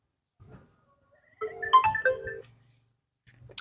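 A phone ringtone plays during an outgoing call: a short melodic sequence of bright electronic tones lasting about a second, with faint low background noise before and after.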